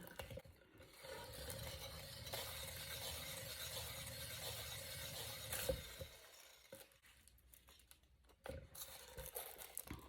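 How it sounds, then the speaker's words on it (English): Aluminium foil scraping and crinkling against the bottom of a heart-shaped canvas during a fluid art pour, a faint, continuous rasp that thins out midway before resuming, with no talking. "Excuse the sound of the alfoil as it's scraping on the bottom there."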